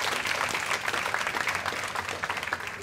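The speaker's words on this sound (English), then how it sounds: "let's give them another round of applause" Evening event crowd applauding, a sustained, dense round of clapping with individual claps audible near the front, steady and fairly loud, ending on a slightly thinner patter.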